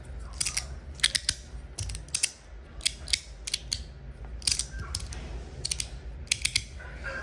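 A handheld fidget toy gives sharp, quiet clicks in irregular bursts and pairs over faint background hiss, with no talk.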